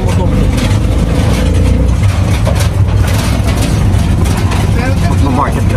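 Busy street traffic crowded with motorcycles and modern kolong-kolong tricycles, a steady loud engine rumble under continuous nearby voices talking.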